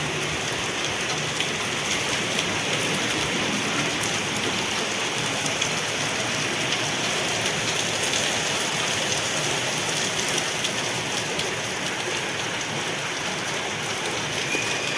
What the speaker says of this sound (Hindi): देखो कितनी तेज़ अब बारिश हो रही।